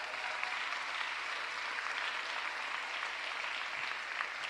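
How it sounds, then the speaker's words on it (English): A large audience applauds in a steady, dense wash of clapping throughout a Philadelphia mayor's State of the City address, honoring labor, with no voices standing out. "Please give labor a huge round of applause."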